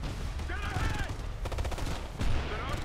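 Gunfire in the video game Ghost Recon Future Soldier, with dense bursts of automatic fire and blasts over a continuous rumbling battle backdrop, moderately loud and steady throughout.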